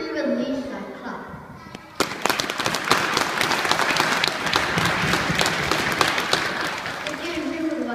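A school assembly audience bursts into sudden loud clapping that continues as a dense, steady wash for several seconds after a quiet moment of a voice speaking.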